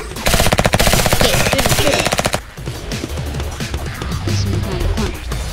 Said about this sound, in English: Keep shooting. Just keep shooting.